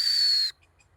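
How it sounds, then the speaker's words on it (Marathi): A single sharp, high whistle on a farm, held steady for about half a second and then cut off abruptly, leaving near silence. "एक शिट्टी मारली आणि दादू पळत येतोय"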